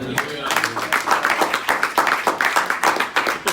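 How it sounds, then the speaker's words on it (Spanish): Congregation applause in a church, fairly close rhythmic clapping with distinct sharp hits, mixed with speaking voices throughout. "Un aplauso a Cristo."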